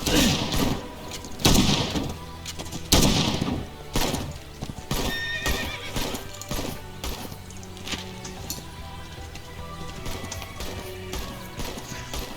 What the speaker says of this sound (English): Now, if your horse does get injured too much, you can heal them with bandages.